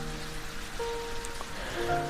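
Steady rain falls as a soft, continuous hiss on a surface, faint and even throughout, used as a story sound effect with no talking.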